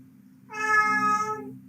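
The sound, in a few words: cat meowing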